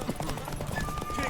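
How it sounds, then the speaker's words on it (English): Horse hooves clip-clop in a quick, steady rhythm in the video game The Witcher 3, fairly faint and mixed under game sound. "Want that horse, don't ya?"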